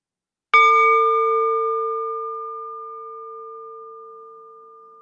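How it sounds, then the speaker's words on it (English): A single morning bell struck at a church service gives one clear ding that rings on with a long, slowly fading pure tone, alone and close. "with the sounding of the morning bell"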